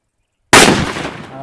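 A Tamil country cracker (nattu vedi) set off for Diwali bursts after a moment of silence: one sudden, very loud bang that rings out and decays over the following second.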